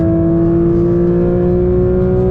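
A Porsche 992 GT3 RS engine holds a loud, steady high-rpm wail near 9000 rpm, a strong continuous tone with a slight rising pitch, heard from inside the car with no talk.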